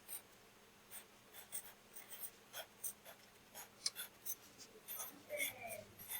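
Someone writes notes by hand, with soft scratchy strokes in short, irregular bursts, quiet and close, with no talking.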